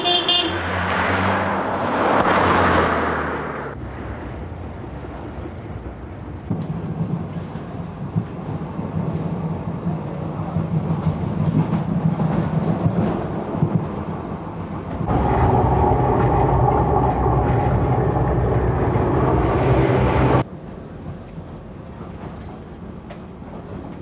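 A Docklands Light Railway train in London rumbles along steadily with shifting mechanical tones and a brief horn-like toot near the start, sounding like a passenger rail ride from inside.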